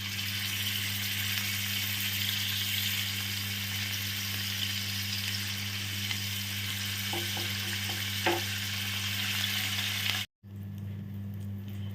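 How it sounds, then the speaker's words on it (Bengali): Fish balls frying in oil, a steady close sizzle with a constant low hum underneath and a few faint clinks, cutting off abruptly near the end. "এবার আস্তে আস্তে করে একটু ফ্রাই করে নেব"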